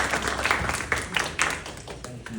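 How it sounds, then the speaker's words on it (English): A lunch-meeting audience applauds to welcome a speaker, with moderate clapping where individual claps stand out, tapering off over a couple of seconds. "So big round of applause."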